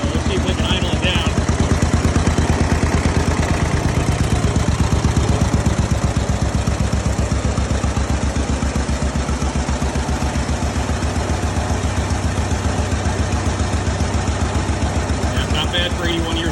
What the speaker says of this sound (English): that's the John Deere L, and she's running